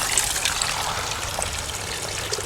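Clean water trickles and splashes steadily into a street sewer in Belgrade, a close, continuous liquid patter with no voices over it.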